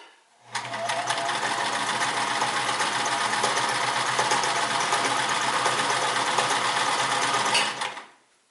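A Sears Kenmore 158 series mechanical sewing machine running off its cam stack, a steady close motor whir with fast rhythmic stitching that starts abruptly, holds evenly for about seven seconds, then winds down.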